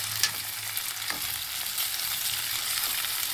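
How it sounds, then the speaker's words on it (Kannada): Coriander frying in hot oil for a Muslim-style dal fry, a steady bright hiss of sizzling with a couple of soft stirring scrapes, close and continuous. "ಇದು ಕೂಡ ಎಣ್ಣೆಗೆ ಫ್ರೈ ಆಗಬೇಕು."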